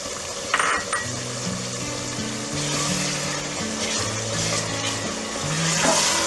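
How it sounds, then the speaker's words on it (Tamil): Green peas tipped into a pan with cooked tomatoes, a few clinks at the start, then a steady sizzle of sautéing under soft background music. "இப்போ கிரீன் பீஸ் எடுத்து வச்சிருக்கிறது ஆட் பண்ணிக்கலாம்."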